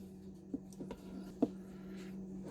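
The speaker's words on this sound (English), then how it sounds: "I'm going to chop up 6 hard-boiled eggs" A knife chops hard-boiled eggs on a board with a few soft, scattered taps, faint and close, with quiet pauses in between.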